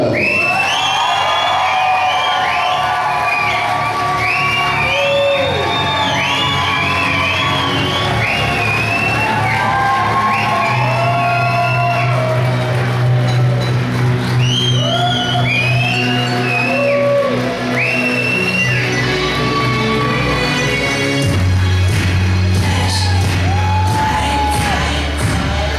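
Wedding guests cheer, yell and whoop for newlyweds Mr. and Mrs. Tom Maxwell as they are introduced, a loud, sustained crowd roar with shrill individual shouts over steady music.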